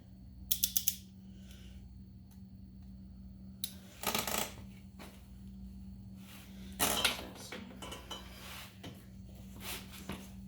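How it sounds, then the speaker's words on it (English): A torque wrench is set to loosen and worked on a 1991-2001 Honda Nighthawk CB250 during a chain tensioner install, making quiet metallic clicks, ratcheting bursts and clinks spaced across a hushed workshop background. "you're gonna take the torque wrench and I'll set it to the loosen setting."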